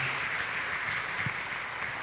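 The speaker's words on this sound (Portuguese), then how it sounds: "Gostaria que a igreja o recebesse com uma salva de palmas ao Senhor pela vida dele." Members of a church congregation clap to welcome a guest, a brief, even patter of applause heard at moderate volume throughout.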